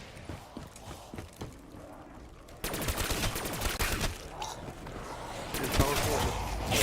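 Rapid automatic gunfire from a Pack-a-Punched Galil in Black Ops 3 Zombies, opening with quieter scattered shots, then a sustained loud, dense volley from the midpoint onward with a voice heard faintly alongside.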